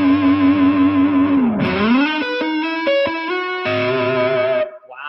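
Slash model electric guitar on the neck pickup with effects and distortion, a sustained note that bends and dips, then several short picked notes and a final held tone, close and loud with no talking.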